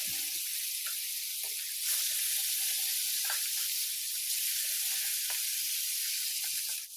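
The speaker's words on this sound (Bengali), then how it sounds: "তো তেল আঙুর গরম হয়ে গেছে, তখন এই জায়গায় আমি দিয়ে দিবার লাগছে একটা একটা করে মাছ" Fish pieces frying in hot oil in a pan give a steady, bright sizzle with small pops and crackles, close and continuous, swelling slightly as more fish goes in.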